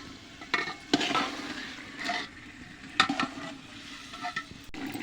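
Village chicken is stir-fried in a pan. Sharp scraping stirring strokes come every second or so over a low, continuous sizzle.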